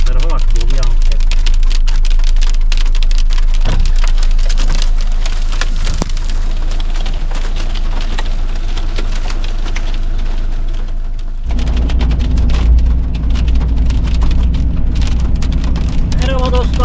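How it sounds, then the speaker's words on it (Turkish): Hail pelting a caravan roof in a sudden storm near Çıldır Lake, a dense, loud, continuous rattling clatter throughout, growing heavier toward the end, with a vehicle moving along. "bulutların altında bir anda dolu yağmaya başladı"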